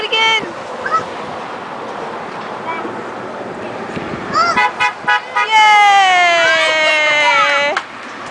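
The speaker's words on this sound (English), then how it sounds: "We'll get one to honk." A passing car outside a Dairy Queen gives a long, loud horn blast near the end after a few shorter toots, while children and an adult talk and cheer over the traffic noise.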